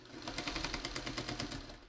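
Sewing machine stitching together a 12.5-inch quilt block with bow-tie pieces, a fast, steady run of close mechanical clatter heard alone for about two seconds.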